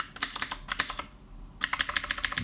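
Quick bursts of keystrokes on a computer keyboard, entering a command in the PICO-8 console; close, crisp clicks in two runs separated by a short pause, with no voices.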